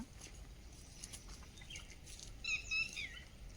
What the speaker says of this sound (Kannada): ಪಕ್ಷಿಗಳ ಕೂಗು, ಚಿಲಿಪಿಲಿ